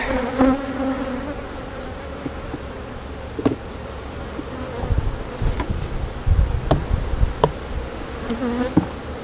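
Honeybees buzz steadily around an open hive during an inspection, a dense close drone with tonal swells as bees fly past, punctuated by occasional clicks and knocks from handling the frames.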